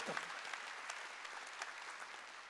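A church congregation at a Wednesday worship service claps together, a steady, faint wash of applause.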